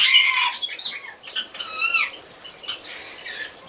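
Shrill squawks and screeches from rose-ringed parakeets overlap in bursts, loud and close, with brief rustling in between.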